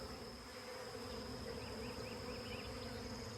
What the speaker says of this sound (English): These are the bees that we vacuumed up.